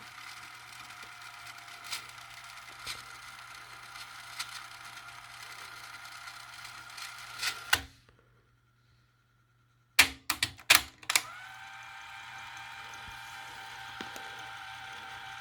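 A vintage cassette deck transport under repair runs with a steady mechanical whir and scattered clicks, then falls nearly silent for a couple of seconds before several sharp clunks as it starts running again.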